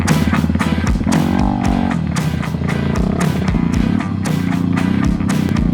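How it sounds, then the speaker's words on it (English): A stretched custom Honda Ruckus scooter, a barn find, pulls away with a loud, rattly small-engine buzz that rises and dips in pitch as the throttle changes, staying fairly close the whole time. "This is my brother's barn find stretched custom Honda Ruckus."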